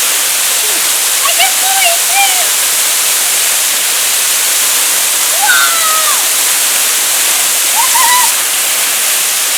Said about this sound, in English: that was a beautiful waterfall